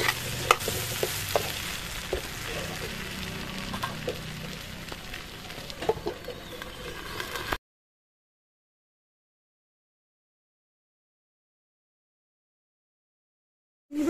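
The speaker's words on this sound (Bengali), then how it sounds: "আমি ধিম আঁচে আলুটা ভাজবো," Potatoes frying in a pan over low heat for kacchi biryani, giving a steady soft sizzle with occasional stirring scrapes for several seconds before the sound cuts to silence.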